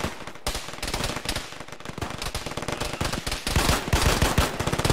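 Dense, continuous bursts of automatic gunfire crackle without letup, loud and close, with rapid overlapping shots building toward the end.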